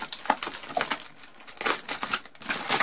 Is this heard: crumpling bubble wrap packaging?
yes